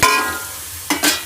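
Bathua greens and previously fried eggplant frying together in an oiled pan in a village kitchen: a sharp sizzle as the eggplant goes in, then a softer hiss broken by two quick bursts of stirring.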